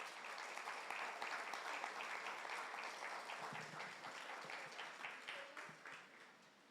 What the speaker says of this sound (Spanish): Le damos un aplauso al Señor Jesús.